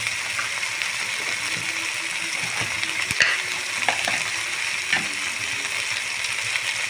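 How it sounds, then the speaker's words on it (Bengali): Spices with turmeric, salt and a little sugar sauté in a pan for an egg curry, giving a constant close sizzle broken by scattered stirring knocks and scrapes. "দিয়ে খুব ভালো করে আমি কষিয়ে নেব"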